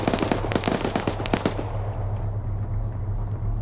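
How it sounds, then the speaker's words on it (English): Rapid bursts of explosive pops and cracks from grenades in an Arma PvP battle, a dense cluster over the first second and a half, then fading into a low rumbling wash of distant combat. "Grenades being thrown out."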